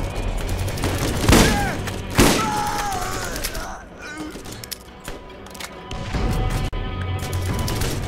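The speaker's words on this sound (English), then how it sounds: "Dahl shotguns." Dahl shotgun fire in the video game Borderlands, with two heavy, loud blasts near the start over game action and music, then quieter clatter and scattered thuds.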